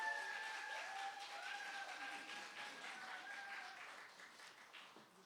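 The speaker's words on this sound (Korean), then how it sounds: "박수로 맞아주실까요?" A church congregation at a Christmas service applauds to welcome a child soloist, steady clapping that swells and then gradually fades, with a faint sustained tone running beneath it.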